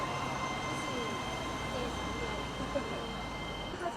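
Quiet train passing through Chongqing, a low, steady rumble and hum that stays even throughout, with faint people talking nearby.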